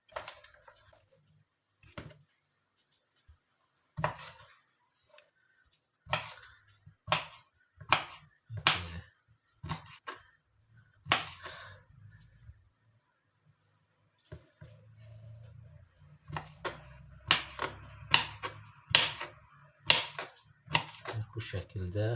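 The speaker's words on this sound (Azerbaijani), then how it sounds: "Bax belə ananasımızı doğradıq." A knife chops pineapple on a cutting board in a kitchen, giving sharp, irregular clicks and thuds in short bursts, quiet and close, with a little faint background noise between cuts.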